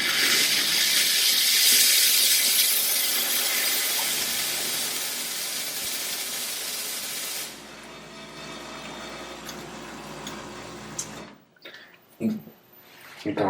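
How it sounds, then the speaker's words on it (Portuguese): A Saeco SE50 espresso machine dispenses hot water with a strong continuous hissing rush that gradually quietens, then cuts off, leaving a few small clicks and knocks. "você pode liberar água tanto por aqui como por aqui, seja fazendo expresso ou fazendo um chá, e vaporizar o leite"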